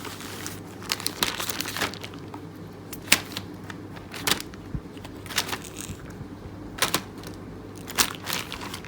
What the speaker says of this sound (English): So this is a Ziploc bag.